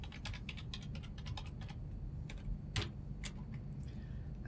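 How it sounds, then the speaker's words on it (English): Computer keyboard keys tapped to enter a Wi-Fi password, quick irregular clicks at close range, fairly faint, with short pauses between bursts of keystrokes. "Type in the password."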